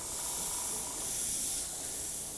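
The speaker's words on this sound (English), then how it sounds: "I'm not actually spraying off the stencil, I'm spraying onto it." An airbrush sprays paint onto a paper stencil, giving a steady, close, loud hiss that runs unbroken for the whole moment with no talking.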